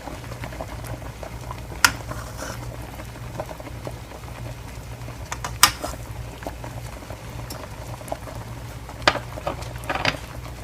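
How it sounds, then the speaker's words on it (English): A pot of pigtails bubbles steadily at a low simmer with a constant hiss and occasional louder pops and splashes. "continue doing that while it's going through the boiling process"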